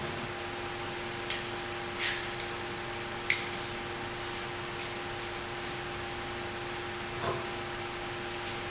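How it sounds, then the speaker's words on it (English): Spray.Bike paint hisses from a can onto a bicycle frame in short, separate bursts of varying length, fairly quiet over a steady background hum. "I'm just going to spray some various colours on in patches"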